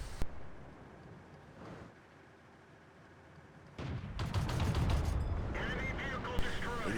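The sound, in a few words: tank gun shots in video game World of Tanks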